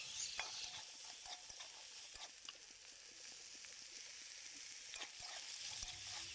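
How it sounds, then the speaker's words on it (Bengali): Potato and eggplant pieces are stirred in a frying pan, a soft continuous sizzle with light scraping and tapping of a spatula throughout, fairly quiet. "দুটোকে খুব ভালো করে আলতো হাতে নেড়ে নেব"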